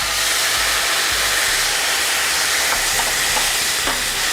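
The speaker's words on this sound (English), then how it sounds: "Add some white wine to your fennel." White wine poured into a hot pan of fennel that has been cooking over high heat, giving a loud, continuous hissing sizzle close up with no talk.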